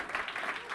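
An audience claps at a startup accelerator demo day, making a brief, distant burst of applause that sounds soft and muffled.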